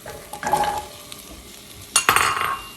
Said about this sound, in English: Alright, so once we put in our onions, let's break it up.